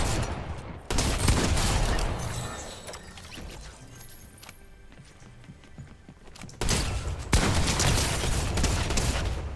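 A video game gun fires rapidly in loud, dense bursts that blend into a near-continuous rattle, with a brief quieter lull midway and no talking.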